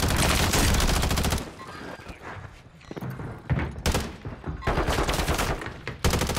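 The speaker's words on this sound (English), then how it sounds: "Got shots coming from right here" Gunfire in the video game Call of Duty Warzone, rapid automatic bursts loud and close at the start and end, with scattered shots and quieter gaps between.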